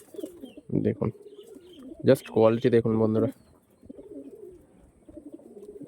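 A star Kalanka female pigeon and other pure-bred tournament pigeons coo in soft, low repeated bursts close by, while someone speaks over and between the calls.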